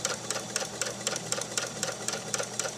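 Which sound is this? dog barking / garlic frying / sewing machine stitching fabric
sewing machine stitching fabric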